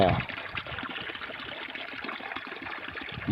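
Water pumped by a 12 V DC pump splashes and trickles steadily into a container, a continuous close rushing flow.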